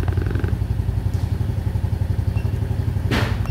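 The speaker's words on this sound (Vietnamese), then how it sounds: "mình bắt đầu nổ máy vào vòng tua máy xem là trước khi mở tua và sau khi mở tua" A motorcycle engine with a stock ECU idles close by, its steady low thumping pulse running evenly throughout, with a brief clatter near the end.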